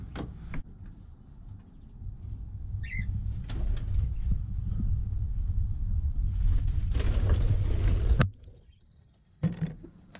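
Pigeons or doves coo in a backyard pen, a short soft call standing out over a steady low rumble, with a few knocks and shuffling noises near the end.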